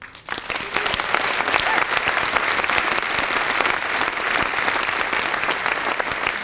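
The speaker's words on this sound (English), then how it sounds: "I want you to give yourselves a huge round of applause" An audience claps in a sustained, dense round of applause after a brief rise, steady and loud throughout, at a charity team speech event at Lake Tahoe.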